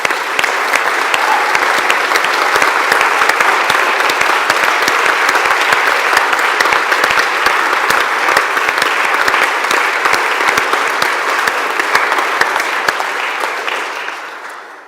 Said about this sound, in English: Stand up and have your round of applause.